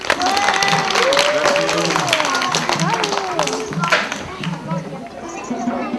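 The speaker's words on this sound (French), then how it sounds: "On applaudit pour Stella" A group of children applauding together for a young girl after she tries playing chords, steady clapping filling the room with voices chattering over it.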